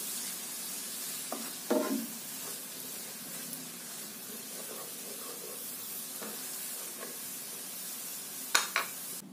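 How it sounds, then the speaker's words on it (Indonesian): Sliced shallots and garlic sauté in a pan until fragrant and lightly browned, a soft continuous sizzle with a few sharp stirring scrapes and clicks, faint and close. "Tumis kembali sampai harum dan sedikit berwarna kecoklatan."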